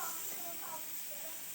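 Onion frying in a hot pan, a steady bright sizzling hiss throughout with a faint voice in the background.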